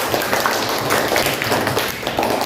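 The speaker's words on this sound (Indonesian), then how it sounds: "Tepuk tangan dulu buat kita semua." Students in a university classroom clap together, a steady, close patter of hands that stays fairly even from start to finish.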